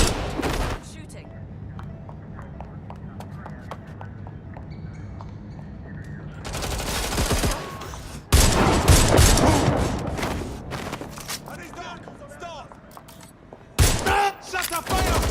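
Gunfire in the video game Watch Dogs Legion comes as loud bursts of rapid shots and heavy booms, set apart by quieter stretches, with a voice speaking over parts of the action.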